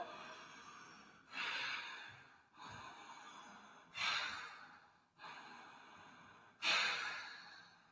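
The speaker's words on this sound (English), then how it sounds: "breathe in and make a really noisy Ujjayi breath. So it sounds like Darth Vader breathing" Slow, loud throaty Ujjayi yoga breaths, three long hissing inhales and exhales in a steady cycle, close and rasping, with no talking.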